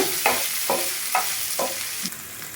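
Curry leaves frying in a pan for a mutton fry, a steady sizzle broken by four evenly spaced stirring scrapes, close and fairly loud, no voices.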